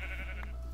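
Sheep bleating in a farm and deli management video game, one short steady bleat heard alone with a continuous low hum underneath.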